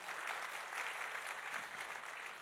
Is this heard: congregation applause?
yes